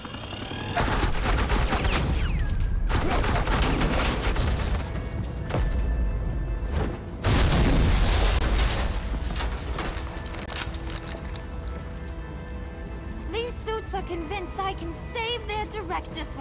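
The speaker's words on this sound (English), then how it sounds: "This is Agent Quinn, suppressing fire." Sustained bursts of automatic gunfire providing suppressing fire in Batman: The Enemy Within, loud and dense with brief gaps, ending in scattered sharper shots.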